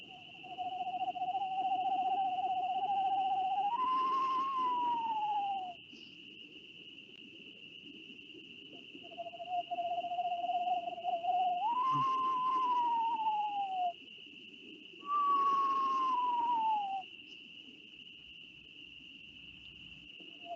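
A person imitates a screech owl at night in the woods, giving three wavering whistled trills, each rising and then sliding down, over a constant high chorus of crickets and insects.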